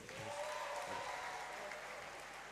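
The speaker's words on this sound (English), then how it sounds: "Please let's clap for her." Audience applause at a School of Pharmacy white coat ceremony, a steady wash of clapping filling the hall at moderate level, with a sustained tone and brief voices over the top.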